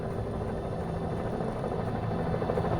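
A helicopter in the Alan Wake video game throbs steadily with a low, continuous rotor drone and engine rumble, fairly close and unbroken, with no voices over it.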